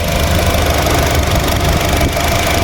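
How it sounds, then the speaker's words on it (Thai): A 2019 Honda Jazz 1.5 RS engine idling steadily and close up, a constant even hum with light mechanical ticking and no voices. "นี่เครื่องยนต์เดินนิ่งมากๆ ผมบอกเลย"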